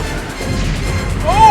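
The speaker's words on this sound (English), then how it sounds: "I didn't know they could blow up a Romulan ship that easily." Star Trek: The Next Generation torpedoes striking and destroying a Romulan ship: a brief rumbling crash and explosion that swells toward the end with a rising whine, loud and close, with no talk.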